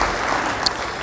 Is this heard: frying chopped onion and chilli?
no